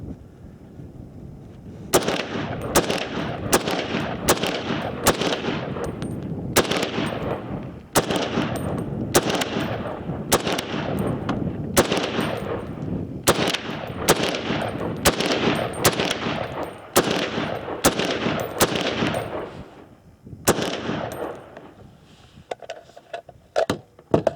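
SOCOM 16 rifle firing at an outdoor shooting range: a long string of loud, sharp shots at an uneven, fairly quick pace, each with a short echoing tail, with no voices heard.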